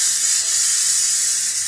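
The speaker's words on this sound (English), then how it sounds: "So this is done, so now I need to kind of release the steam." Steam hisses loudly and continuously from a pressure cooker releasing pressure after cooking Southern greens, a close, steady spray with no talking.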